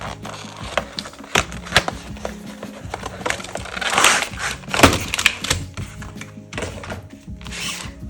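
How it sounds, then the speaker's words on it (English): Packaging of a Brustro artist watercolour set being unboxed: close, uneven taps, clicks and light rustles of cardboard handling, with a denser flurry of knocks midway. "So let's unbox this and see what the colors are inside."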